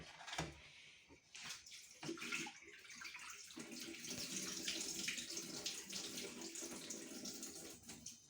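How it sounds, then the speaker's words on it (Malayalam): Rice being washed in water, with steady running and swishing water sounds close by and no speech. "അരി കഴുകുവാണോ? ശരിക്കും കഴുകുക."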